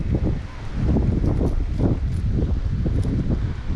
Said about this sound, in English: It's windy. Windy, windy.